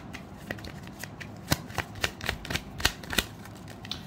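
Tarot cards being shuffled and drawn by hand, crisp riffling snaps and irregular papery taps, close and clear with no talk.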